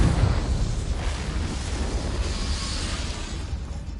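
Confringo spell explosion in Hogwarts Legacy, a dense rumbling blast that starts strong and then settles into a steady roaring wash lasting several seconds, with no voices.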